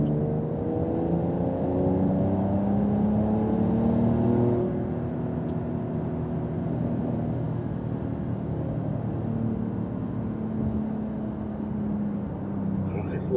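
Porsche Carrera GTS accelerating on a wet track, heard from inside as a steady engine drone with rising harmonics, loud and continuous throughout, with a brief lift around the midpoint before pulling again.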